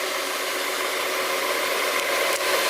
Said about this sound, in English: This Brush Pro 17 is easier to run than that vacuum cleaner.